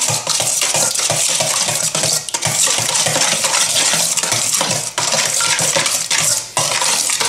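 Sugar and salt stirred together in a bowl for focaccia dough, a steady run of small scraping and clinking strokes that continues alone with no talk.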